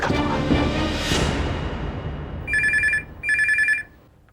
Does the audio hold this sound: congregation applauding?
no